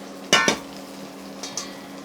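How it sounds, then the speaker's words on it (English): Brussels sprouts drop into a pan with two quick knocking thuds, then a short pause and two softer clunks, close and fairly loud against a quiet kitchen hum. "I'm going to get this into the pan here"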